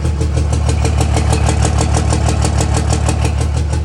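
A car engine idles roughly and loudly up close, its choppy, lopey pulses repeating in a steady uneven rhythm with a deep rumble throughout and no voices.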